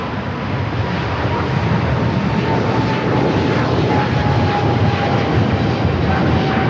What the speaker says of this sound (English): Air China is now rolling down at 25 right. It's flight heading back to Beijing at a 777 at 300 ER.